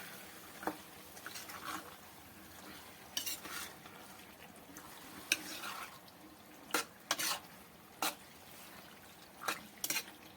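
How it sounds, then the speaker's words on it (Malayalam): Chicken pieces stirred into a mixed marinade in a bowl, giving soft wet squelching and scraping strokes in irregular bursts, with a few sharper clinks of spoon on the vessel, close and fairly quiet with no talking. "ഇനി നല്ലവണ്ണം നമുക്കൊന്ന് ഇളക്കി കൊടുക്കാം."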